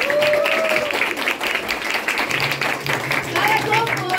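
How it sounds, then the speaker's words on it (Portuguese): Audience applause at a school play of Alice in Wonderland, moderately loud clapping with some cheering voices mixed in, steady with slight swells, while a voice carries over parts of it. "uma salva de palmas para o nosso Guilherme e Lucas!"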